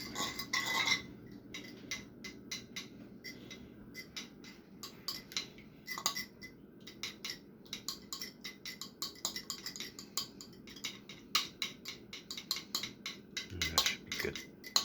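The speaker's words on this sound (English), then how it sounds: "now you grab a fork and you whisk it around a little bit" A fork whisks raw eggs in a bowl, breaking the yolks for French toast batter: rapid, steady clinking and ticking against the bowl that runs the whole time, close and fairly quiet, with no talking.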